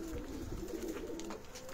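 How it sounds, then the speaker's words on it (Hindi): Pigeons cooing on a rooftop at an ustad's home, a steady low soft cooing that carries throughout at moderate level, with faint background noise and no talk. "उस्ताद जी के कबूतर हैं माशाल्लाह।"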